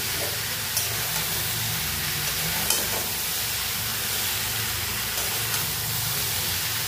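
Potato and cauliflower frying in a pan with spices, a constant broad sizzle and hiss with a few faint clicks of stirring, close and even throughout.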